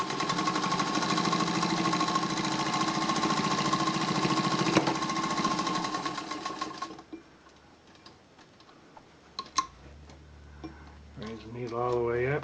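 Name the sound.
Singer 201K sewing machine sewing a jeans side seam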